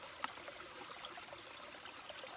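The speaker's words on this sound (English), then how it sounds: "just gonna squeeze the bag into your bottle" Filtered water squeezed from a filter bag trickling into a bottle on a trail, a faint, steady thin trickle with a couple of tiny drips.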